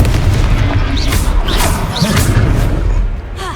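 Confringo fire spell explosion in Hogwarts Legacy during a troll fight in a village square: loud, booming blasts and thuds over a dense battle din with whooshing effects, close and continuous.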